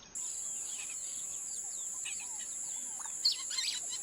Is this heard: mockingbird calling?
yes